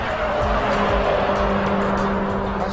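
A Honda Civic EK9 Type R with its 1600cc B16B engine driving hard through chicanes, a steady loud engine drone with tire noise running continuously throughout.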